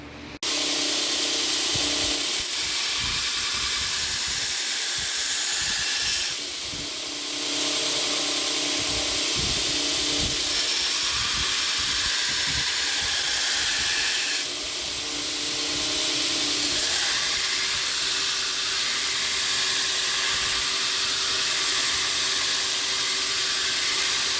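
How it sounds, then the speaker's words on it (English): Bevel grinding on a copper Damascus hunting knife, a sustained loud grinder whine and hiss lasting the whole stretch, with brief dips and surges as the blade is worked against the belt, no voices. "I'm going to start grinding out the bevel so we can heat treat."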